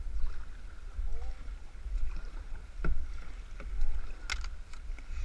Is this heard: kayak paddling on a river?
yes